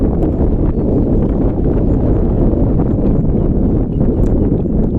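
Strong wind at a Madurai fishing spot buffets the microphone in a constant low roar, steady and loud throughout with no other clear sounds.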